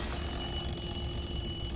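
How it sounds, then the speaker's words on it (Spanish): Alarm ringing in Dishonored 2, a steady high electronic tone held continuously over a dense, constant background rumble throughout. "La alarma sonando"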